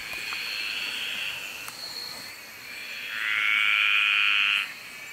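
A graceful tree frog calls with a drawn-out buzzing trill, then a second, louder and closer trill that ends abruptly, over faint background noise.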